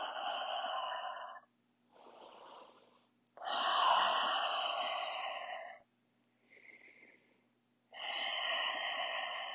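Slow, loud, deliberate breathing during a power yoga pose, long hissing inhales and exhales alternating with short pauses, close to the ear, with a faint steady hum underneath and no talking.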